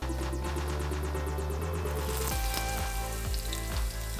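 Potatoes fry in a pan before fish goes in, a loud, continuous close-up sizzle with crackling spatter that holds steady across the whole short stretch.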